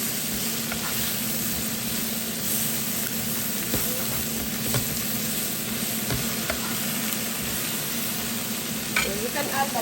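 Marinated chicken and mushroom cooking in a pan give a steady, close sizzle, with occasional scrapes and taps from a stirring utensil throughout.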